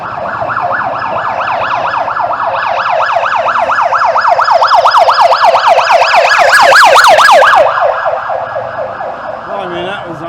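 A loud ambulance siren wails in a rapid rising and falling pattern close by on Soi Buakhao street in Pattaya, Thailand, swelling louder before fading slightly, with traffic noise underneath.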